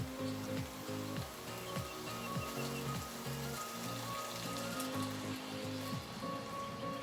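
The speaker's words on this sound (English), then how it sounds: "Fry the masala for 2 to 3 minutes" Ground masala, mixed with onions and tomato, sizzles steadily in a pan as a constant fine crackle, with a repeating faint tonal hum under it.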